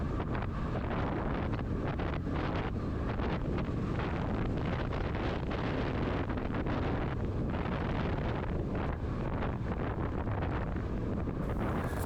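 Strong headwind buffets a bicycle time trial rider on a descent near Bonifacio, Corsica, a loud, continuous gusting roar close to the microphone with no talking.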